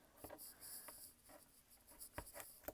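Tape is pressed onto the folded edge of fabric while sewing a handbag, giving a few quiet, brief crinkling and tapping bursts spread irregularly over a soft background hiss.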